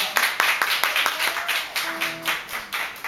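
An audience claps at a live performance in a small cafe in Yokohama's Bashamichi, giving sparse, uneven individual claps in a loose rhythm, close and moderately loud with no speech.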